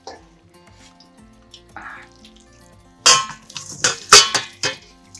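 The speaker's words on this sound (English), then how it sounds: "I just take it, the whole pot, and dump it into this colander with a bowl underneath it to catch all the excess fat" A pot of cooked ground beef dumped into a metal colander set over a bowl, a quiet scrape followed by a loud wet clatter and dripping.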